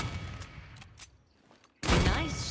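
Weapon fire in the video game Paladins, a loud burst of shots cutting in late over a rumbling, busy game soundscape with a few earlier sharp reports.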